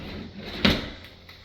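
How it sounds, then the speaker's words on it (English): A drawer is opened or shut in a house being emptied during a move-out, giving one soft thump over quiet room noise with a fainter knock after it. "Just checking drawers."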